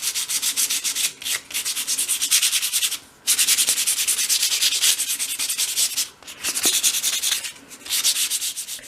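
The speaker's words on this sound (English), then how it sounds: "So once you've cut your door surround pieces, give them a gentle sand." Sandpaper is rubbed gently by hand over small cut door-surround pieces for a miniature Christmas room box. The close, raspy strokes repeat in rapid rhythmic bursts, broken by short pauses, with no talking.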